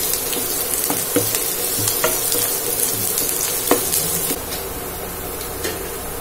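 Chopped onion sizzles in a pan with cumin and garlic for a masoor dal tadka, a steady close frying crackle with occasional stirring clinks and scrapes.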